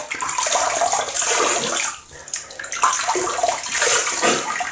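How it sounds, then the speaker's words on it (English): Running tap water splashing close by as a face is wetted at the sink before shaving, a continuous rushing flow with brief dips and surges in the splashing, and no talking. "So I'm just gonna wet the face."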